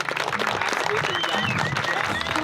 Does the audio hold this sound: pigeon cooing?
no